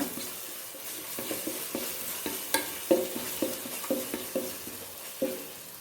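Shredded cabbage is stirred as it fries in a pan for fish biryani. A spoon scrapes in a steady rhythm about twice a second over a soft, continuous sizzle, close by and with no voices.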